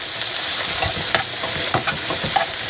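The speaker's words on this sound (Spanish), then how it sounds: "Entonces pues ya voy a revolver todo." Vegetables frying in plenty of oil, a loud, steady hiss of sizzling with a few scattered light scrapes and clicks of stirring.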